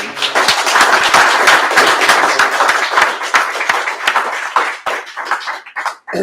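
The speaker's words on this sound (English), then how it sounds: "I'm going to ask for another round of applause" Audience applause at a workplace sustainability event: a dense round of clapping from a seated crowd, loud and steady, thinning into scattered claps before dying away near the end.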